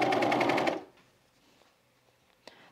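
A sewing machine top stitching pajama bottoms whirs in a fast, loud burst of under a second, then stops, leaving quiet room tone and a faint click.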